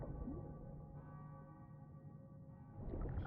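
Steady ringing church bell tones in the video game sustain throughout, layered over a low ambient rumble, with a slight swell near the end.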